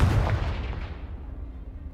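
Confringo blast spell in a Harry Potter video game, a single loud explosive boom that rolls off into a fading rumble.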